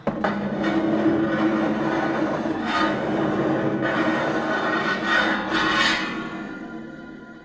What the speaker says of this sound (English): Bashing it and dragging it on tables and floors is a really good one.